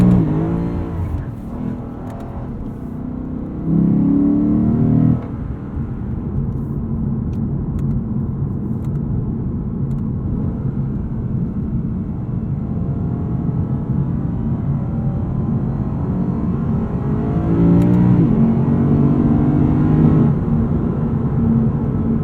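Lexus RC F 5-liter V8 engine on track at Fuji, a deep continuous rumble with rising revs in two surges, loud and close throughout with no talking.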